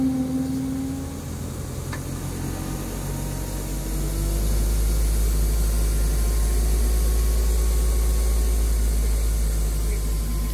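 A tractor engine raised to higher RPM to drive a hydraulic system drones loud and steady, with a deep low hum that swells after a few seconds and then holds constant.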